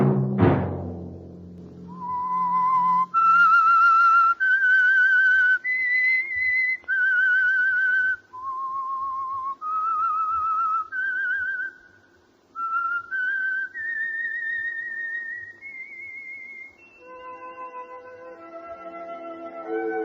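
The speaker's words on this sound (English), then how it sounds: "Let that whistle be your signal for the Whistler." Whistled signature theme of The Whistler radio drama, opening with a struck tone and then a clear solo melody of sustained, wavering notes rising and falling over a faint orchestral bed, loud and alone.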